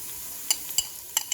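Onions sizzling in a pan for a Greco-style sauce while being stirred, with a soft frying hiss and a few sharp utensil scrapes and clicks, close and without talk.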